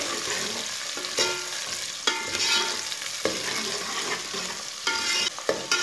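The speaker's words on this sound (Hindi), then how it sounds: "लहसुन और प्याज को मीडियम आंच पर ब्राउन कर लेना" Sliced onions and whole garlic cloves sizzle and fry in a pan over medium heat, browning, with periodic scraping and stirring sounds close by and no voices.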